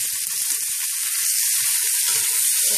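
Chopped onion and bacon sizzle steadily in a hot pan while being stirred, with a constant loud frying hiss and a few soft scraping clicks near the start.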